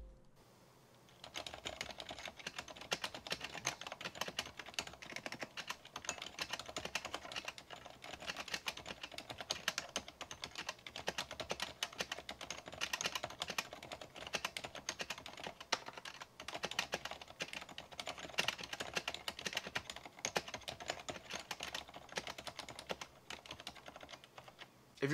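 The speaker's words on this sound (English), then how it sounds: "this keyboard is rocking the MX Black switches, and here is a quick sound test" Steady, continuous typing on a mechanical keyboard with MX Silent Black switches, a dense stream of soft, muted keystrokes at a fast even pace, close up, with no voices.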